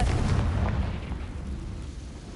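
The Confringo blasting spell bursts in Hogwarts Legacy with a heavy, booming explosion that hits loudly at the start and then rumbles away into a decaying low roar.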